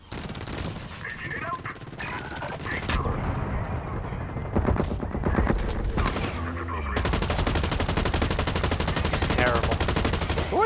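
Rapid automatic gunfire in the first-person shooter Blacklight: Retribution, dense repeated bursts running almost continuously with in-game effects mixed in, loud and close.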